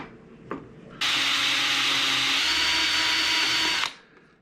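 A power drill bores a hole through a wooden grand piano leg, a loud steady high-pitched grinding whir lasting about three seconds after a short tap, then cutting off abruptly, close by with no talking.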